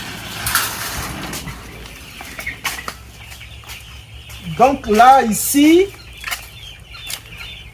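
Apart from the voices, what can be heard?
two-week-old Cobb 500 broiler chicks on a farm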